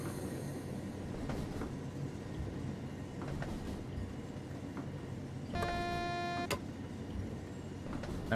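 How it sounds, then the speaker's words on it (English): A train in Train Sim World 3 on the Niddertalbahn line comes to an emergency brake application, with rumbling wheels and clicks on the track followed by a loud, sustained tonal warning buzz, all without speech. "the train's applied the emergency brakes by itself because a tree fell down"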